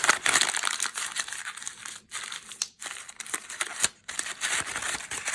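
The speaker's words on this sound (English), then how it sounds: "you can also crumple up your paper" Paper being crumpled up close for dyeing with coffee water, a loud crackling and crinkling that comes in bursts with brief pauses between squeezes.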